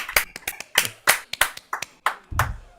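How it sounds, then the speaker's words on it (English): A small audience claps for Ron Isby at an open mic, a dozen or so sharp, irregular hand claps spread across a few seconds; no voices. "why don't we give him the clap? Give it up for Ron Isby."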